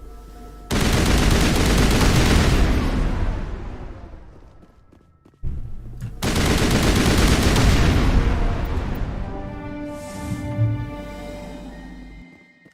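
Loud bursts of weapon fire in Mass Effect Legendary Edition on Noveria, two long sustained volleys separated by a short pause, each fading out, with a faint tonal hum near the end.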